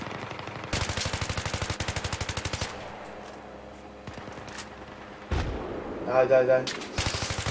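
Automatic machine gun fire in Battlefield 3, sustained rapid bursts of loud, close shots with pauses between, while a man mutters excitedly under and between the gunfire.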